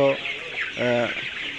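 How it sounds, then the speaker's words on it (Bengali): Chickens cluck on a farm built above a fish pond, giving a couple of close, distinct clucks against a steady airy background. "ফিশারির উপরে মুরগি পালন করা হইতেছে"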